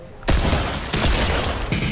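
Three loud, sharp pistol shots crack out in the video game Fortnite, each one a sudden close blast that rings on briefly before the next.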